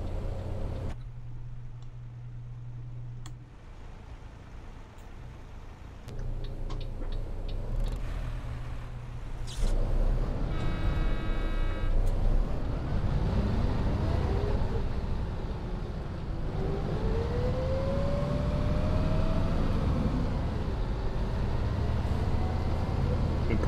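Volvo B7 bus engine in the OMSI 2 simulator, heard from the rear seats, starts low and idling, then builds into a rising, whining howl as the bus pulls away, steady and prominent with faint ticking and background noise.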